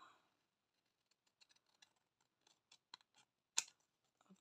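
Large scissors cutting material for handmade gift tags: a string of light, quiet snips and clicks followed by one sharp, louder cut near the end, close and alone.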